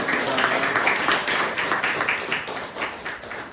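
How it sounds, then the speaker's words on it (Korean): A Sunday church congregation claps together in sustained, even applause that continues throughout at moderate loudness, with faint voices underneath. "우리 다시 한번 격려하면서 박수하겠습니다."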